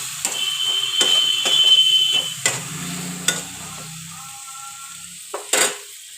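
Spice masala sizzles in oil as the oil begins to separate, a loud crackling hiss that gradually settles and is broken by a few sharp scrapes and clinks of a stirring spoon; no talking.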